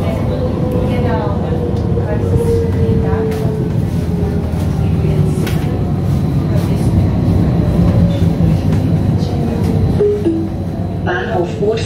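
A SAD Flirt ETR 170 regional train runs between Merano and Bolzano, a steady, loud, close rumble of wheels and running gear with a rising and falling motor whine that lasts throughout.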